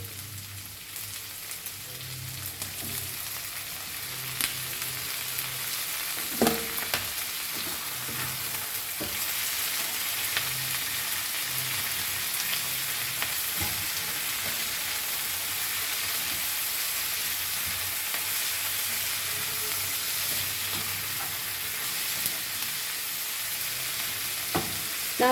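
Tomato frying in a pan for Goan squid chilli fry: a steady, close hiss of sizzling oil across the whole stretch, with scattered soft knocks of stirring and no voices.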